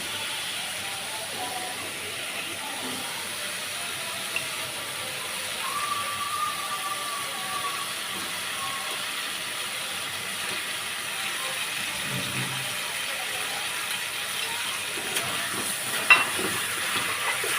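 Pre-fried fish heads going into hot oil with a thickened potato curry, a faint, steady low hiss of sizzling that runs throughout with occasional small pops, heard under a person talking.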